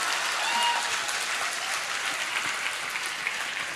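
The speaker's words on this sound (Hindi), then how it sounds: "जोरदार तालियां।" An audience at a student motivation talk gives steady, loud applause that continues evenly throughout without anyone speaking.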